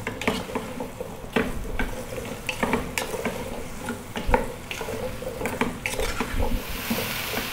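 Chopped onion and potatoes sizzle in a pan over fairly high heat, a steady frying hiss broken by repeated clacks and scrapes of a utensil stirring against the pan, close and with no talking.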